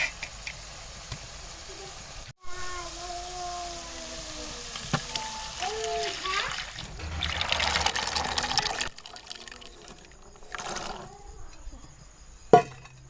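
Boiled chickpeas and their cooking water being poured into a thick curry gravy for Lahori cholay, with trickling and splashing liquid, a sharp clunk, then quieter bubbling and sizzling.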